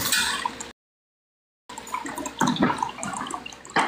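Water runs from a tap in a steady hissing stream, cut briefly by a moment of silence before resuming, with no one speaking.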